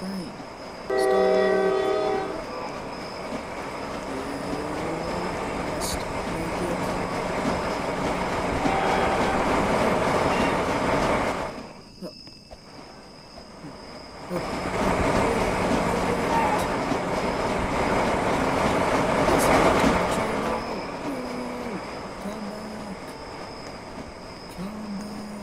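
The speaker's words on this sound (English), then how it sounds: "Oh, there's the train!" A train rolls past in the Roblox Jailbreak video game with a steady loud rumble and sustained horn blasts, briefly dropping away before swelling back up and fading toward the end.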